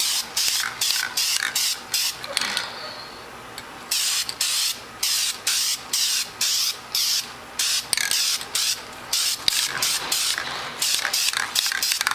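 Red spray paint hisses from an aerosol can onto a BBQ grill lid in repeated even bursts of about half a second each, close and loud, with short gaps between strokes.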